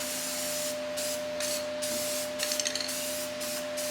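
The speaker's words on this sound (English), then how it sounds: "how much better this can sprays than those other cans" Close, steady hiss of an aerosol spray paint can misting onto the rust-repaired rocker panel of a 2007 GMC Sierra 2500, in a series of short passes with brief breaks, over a constant background hum.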